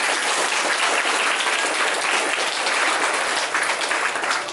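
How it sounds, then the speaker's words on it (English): A crowd at a Flag Day ceremony claps loudly and continuously, dense applause filling the whole stretch without pause. "Can I give one more great big round of applause for our speakers today"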